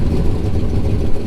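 A car engine run by a FiTech standalone ECU idles at about 800 rpm, a steady low rumble that stays loud and close with no talking.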